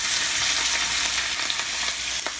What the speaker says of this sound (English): sear all the corners of your steak